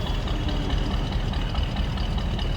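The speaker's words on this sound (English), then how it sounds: "A little bit of rumble coming out of that exhaust." Exhaust of a 1955 Ford Fairlane Crown Victoria idling, a low, steady rumble close by with a continuous even tone and no talk over it.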